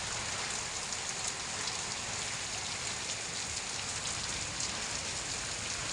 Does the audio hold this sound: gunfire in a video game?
no